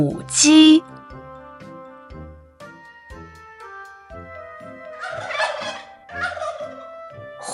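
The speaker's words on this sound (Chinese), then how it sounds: "火鸡" A turkey lets out one short, loud, rattling gobble at the start, followed by bouncy children's music with light plinking notes.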